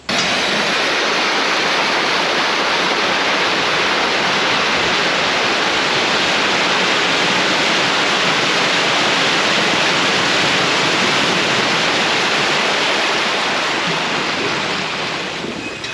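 Water surges steadily to flush a slurry alley in a dairy barn, a loud, continuous broadband rush close to the microphone that fades slightly at the very end.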